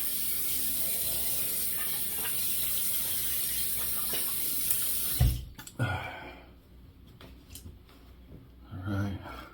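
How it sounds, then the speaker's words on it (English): A bathroom tap runs water steadily as a face is wetted before a shave, a bright close rushing hiss that cuts off abruptly partway through, followed by splashing and handling noises. "We're gonna wet the face."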